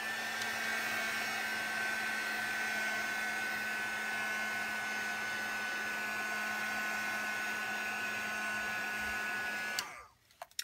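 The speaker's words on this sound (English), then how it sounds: "blast it with the heat gun" Heat gun blowing steadily on watercolour card, a continuous whirring roar with a faint tonal whine that holds for nearly ten seconds before cutting off abruptly.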